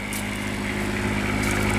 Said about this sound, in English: Very quiet diesel generator.